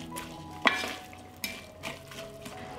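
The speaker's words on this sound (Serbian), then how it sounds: "i sve ću zajedno propržiti dok luk ne omekša." Onion and chopped bacon fry in fat, a soft sizzle broken by a few sharp utensil scrapes and stirring knocks against the pan, quiet and close.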